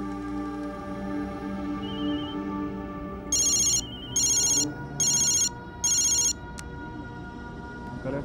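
Four electronic telephone ring bursts, each about half a second with short gaps, sound over a background music bed while someone places a call in a Hindi TV drama scene; no talk during the rings.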